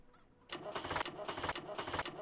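A Massey Ferguson 698T tractor in Farming Simulator 17 cranks without firing: after a brief quiet lead-in, a loud, rhythmic starter churn pulses in repeated chugging bursts that never catch.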